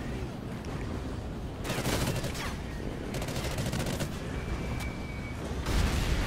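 Gunfire in the Call of Duty: Ghosts video game comes in dense, rapid bursts over a constant rumbling game backdrop, loud and close throughout.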